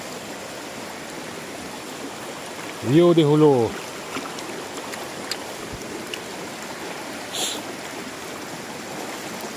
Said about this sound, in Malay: masih deras lagi air ini.